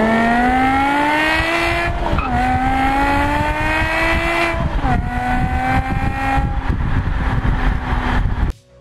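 A high-revving V10 engine in a BMW M5 E60 screams loudly and continuously, its pitch climbing through gears with brief dips at each shift, no voices.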